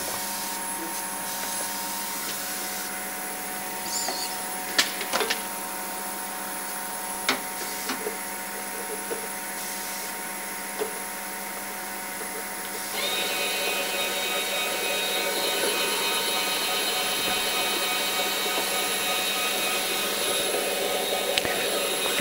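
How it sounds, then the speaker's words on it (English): A Disc Sleever MEP120 machine packing CDs into paper sleeves hums steadily with a faint whine, scattered light clicks and taps, and it grows a little busier and louder partway through. "now I just need to start the machine, the start button, the red one"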